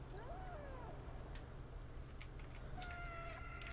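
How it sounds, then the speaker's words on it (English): A couple of short cat meows from the video game Stray rise and fall, faint and slightly synthetic, over soft background hum and a few light clicks. "oh, they're meowing after me."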